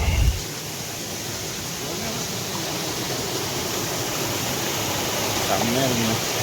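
A stream flows at the foothills of the Kolli Hills, a steady broadband rush of water holding even and unbroken from start to end, with a brief thump at the very beginning.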